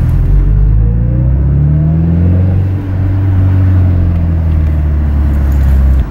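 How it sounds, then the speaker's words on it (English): Car engine on a vehicle with a NOx system, humming loudly and steadily as the accelerator is pressed, with a smooth rising drone and a brief dip partway through. "now I'm gonna press accelerator"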